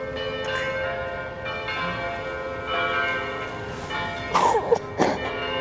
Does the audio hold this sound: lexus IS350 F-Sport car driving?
no